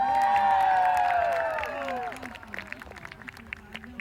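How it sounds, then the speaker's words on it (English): Crowd cheering and shouting in celebration of a contest winner, loud and sustained for about two seconds, then fading into scattered voices and calls with bursts of noise. "Everybody cheer for the guy who won the wife."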